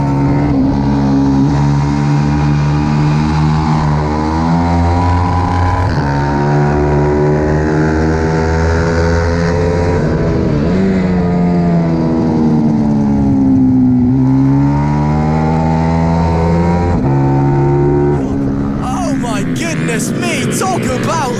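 Pit bike 140 motorcycles race around the Lydd kart circuit, several engines revving hard, rising and falling through gear changes as they pass close and loud, with the whine continuous through the whole run.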